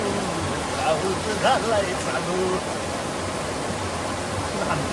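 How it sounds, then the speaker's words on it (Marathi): Steady rain pours down in an even, broadband hiss, with a faint voice rising briefly partway through. "पाऊस झालाय चालू"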